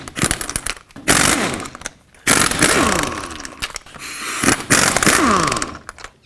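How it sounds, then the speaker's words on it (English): Lug nuts coming off a Ford F-150 wheel with a 21mm socket on a power impact tool, three loud close bursts of rising and falling whirring rattle separated by short pauses, with no talking. "take off all 5 of your lug nuts with a 21mm socket."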